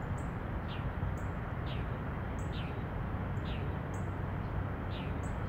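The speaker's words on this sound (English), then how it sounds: "Once again, birds and crickets." Birds chirp faintly in repeated short calls over a steady wash of crickets at a rail level crossing in the morning, all at a constant low level with no voices.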